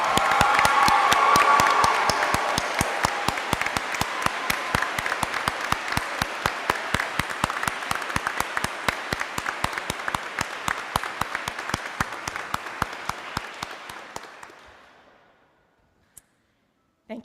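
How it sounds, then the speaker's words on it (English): Applause for graduates at a 2025 commencement ceremony, a large crowd clapping loudly and steadily with a few cheers, then slowly thinning out and fading to silence. "Let's have another round of applause for all of our graduates."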